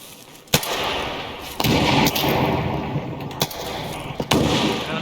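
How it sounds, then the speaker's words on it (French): Gunfire in the video game Escape from Tarkov: several sharp shots crack out at irregular intervals, each followed by a rumbling echo, loud and fairly close, without speech. "ça se tire dessus en face"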